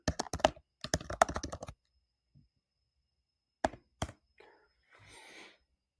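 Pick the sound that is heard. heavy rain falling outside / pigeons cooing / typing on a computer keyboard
typing on a computer keyboard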